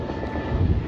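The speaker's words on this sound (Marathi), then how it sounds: "हे विमान" Over Vile Parle West in Mumbai on Diwali, an airplane passes overhead with a continuous low, broad engine roar and a faint steady whine, with no talk.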